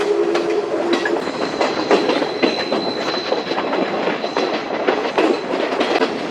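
A train runs through Bandarawela railway station on Sri Lanka's Badulla line, with steady clickety-clack from the wheels and a faint high wheel squeal. It is loud and close, and no one speaks.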